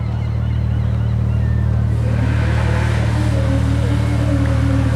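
A 2005 Porsche Boxster S with a 3.2 litre engine launches at a seaside speed trial, its engine note rising in pitch as it pulls away, heard over a loud, steady low rumble and hum of the surroundings.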